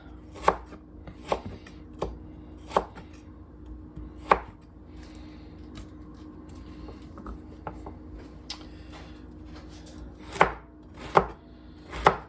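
A knife chops burdock root on a cutting board, giving sharp, distinct knocks spaced about a second apart, then a pause and a few more firm chops, close and clear with no speech.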